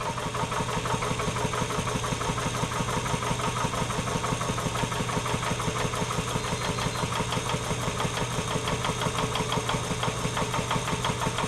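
The electric motor of a garage car lift runs steadily with a dense, rapid mechanical whir and fine rattling texture, sparking as it engages, loud and unbroken throughout.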